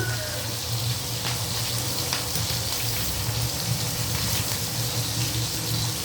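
Chicken pieces frying in hot oil, a steady dense sizzle and crackle close by, continuous and even throughout with no pauses.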